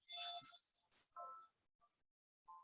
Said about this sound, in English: I hope my wife answers that phone quickly.